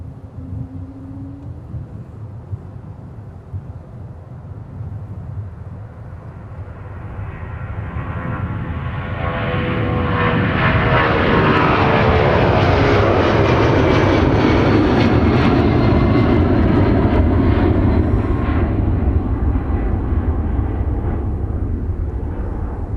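A Delta Boeing 757-300 jet takes off at Minneapolis, its engines rising from a distant hum to a loud sustained roar with a sweeping, shifting whine, and no voices.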